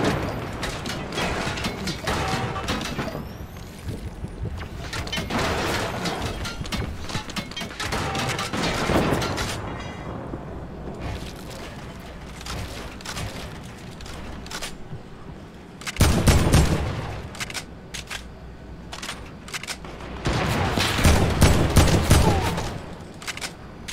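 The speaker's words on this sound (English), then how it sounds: "We got other people shooting all over." Rapid bursts of video game gunfire in an arena match, dense crackling volleys with mechanical ratcheting clicks in between, loud and close, then louder again near the end, with no voices.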